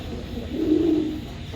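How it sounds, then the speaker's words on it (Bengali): A low, soft coo from Mukhi pigeons swells up once in the middle, close by, over a faint background hum. "এক পেয়ার মুখী কবুতর দিলাম ব্ল্যাকের ভিতরে"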